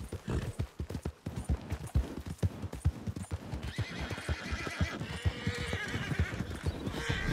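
Horse hooves clip-clop in a steady riding rhythm in Red Dead Redemption 2, close and fairly loud, with a horse whinnying partway through and other game ambience rising later.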